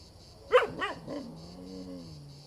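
A dog barks in a few sharp bursts, then trails into a low, drawn-out growl, fairly close and clear with no talk over it.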